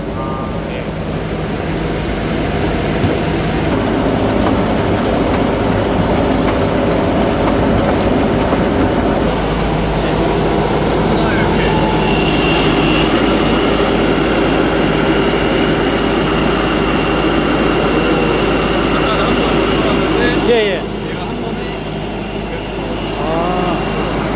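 An LS XR4160 compact tractor's diesel engine runs with a steady, loud rumble throughout, dropping slightly in level near the end.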